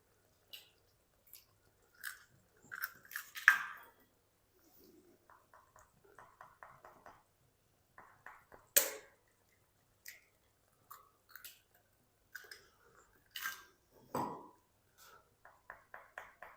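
Six eggs cracked one by one into a pan for egg bhujia, giving sparse, quiet cracks, soft squishy plops and drips with pauses between them, close by and with no talking.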